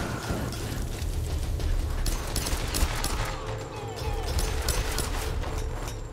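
Dense bursts of gunfire in a tomb raiding video game rattle almost without pause over a loud, busy background of game noise.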